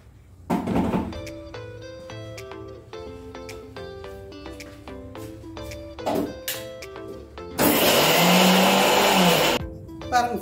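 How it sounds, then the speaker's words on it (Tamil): A kitchen mixer grinder pulses briefly, then runs in one loud, whirring burst while grinding garlic for chutney. Speech, clattering and background music come before the grinding. "கொஞ்சம் அரைச்சிடலாம் வாங்க"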